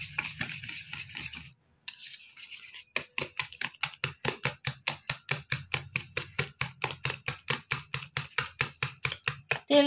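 Oil being whisked into orange cake batter in a bowl: after a brief pause, quick regular strokes tap and swish in a fast, even rhythm, close and clear.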